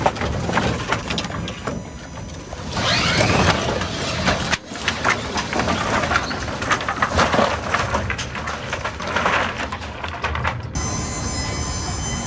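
Demolished wood and logs tumbling off a dump truck onto a pile, a long, loud crashing clatter of splintering boards that surges and rolls steadily, with no talk.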